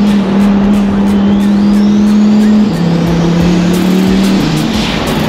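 Loud, close engine of a twin-turbo Lamborghini Huracan Performante driving fast, a steady high drone that drops in pitch mid-way as it shifts, sustained throughout with no talk.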